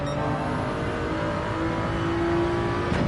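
A race car engine held under throttle in a racing video game on the Dragon Trail track, a steady, loud droning whine with a rising tone near the end and no voices.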